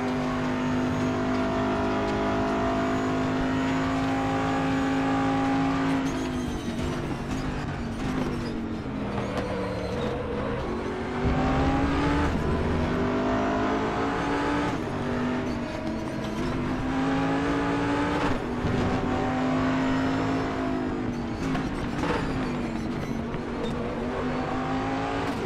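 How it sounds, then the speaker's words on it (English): A Porsche Cup race car laps Road America in the RaceRoom sim, its engine droning loudly and climbing through repeated upshifts and revs over a long run, with no one talking. "Porsche Cup also fits very nicely on this track"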